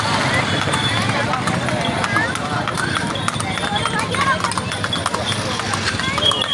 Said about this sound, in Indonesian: Kudanya lari.